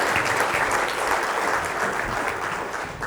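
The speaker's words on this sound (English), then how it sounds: "A big round of applause for all the nice people who just helped you." A seminar audience at the Four Seasons in Abu Dhabi gives a steady round of applause, a dense wash of many hands clapping together for about three seconds.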